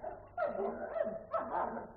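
Several hunting dogs bark and yip in close, overlapping bursts, forming a short yapping cluster played as a sound effect in a French radio drama about a stag hunt.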